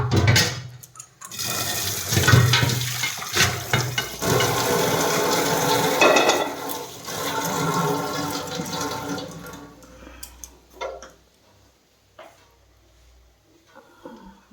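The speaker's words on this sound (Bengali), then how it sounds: "এই কড়াইটাতে বেগুন ভাজা বসাবো। কড়াইটা ধুয়ে নিই" A wok is washed with running water before frying brinjal, with gushing, splashing water loud and close for several seconds, then scattered clatters and drips as it tails off.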